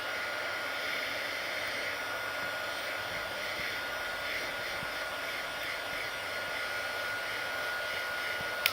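Hair dryer blowing steadily to dry alcohol ink on a playing card, a loud, constant airy roar that holds unchanged throughout.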